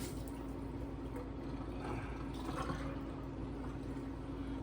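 Steady running water from a tap, continuous and fairly close, with a faint splashing texture as a turkey is rinsed under the stream.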